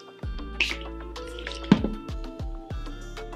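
A makeup brush is dampened with liquid, producing a few small close drips and soft wet squishes spread over a few seconds in a quiet room.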